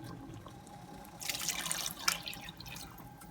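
Broth is poured into a pot of Mexican rice, a short splashing gush of liquid that swells for about a second and then trails off into drips over a quiet background.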